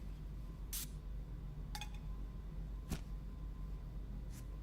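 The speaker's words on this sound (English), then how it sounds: "If you use your spray cans like that, you'll never fucking run out." A spray can hisses in short bursts while a gun is cleaned in the VR game Into The Radius 2, with four brief sprays spread over a few seconds against a low background hum.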